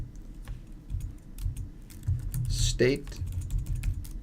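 Quick keystrokes clatter on a computer keyboard in a short burst of close, crisp clicks as someone talks over them.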